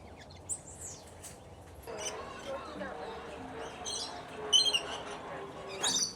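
Birds in an aviary at Butterfly World chirp in brief, high, scattered calls over a steady background murmur, with people talking nearby.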